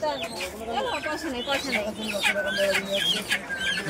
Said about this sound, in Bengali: এই যে রাজহাঁস, দেশি মুরগি, সোনালী মুরগি থেকে শুরু করে ব্রয়লার মুরগি সব পেয়ে যাবেন।